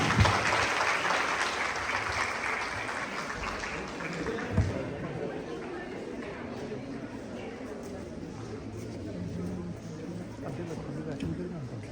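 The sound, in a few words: audience clapping for the children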